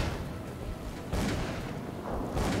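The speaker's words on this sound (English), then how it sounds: "Why did they start shooting?" Gunfire in the video game Call of Cthulhu: Dark Corners of the Earth comes as two muffled, rumbling bursts over a low, constant background, fairly faint and distant.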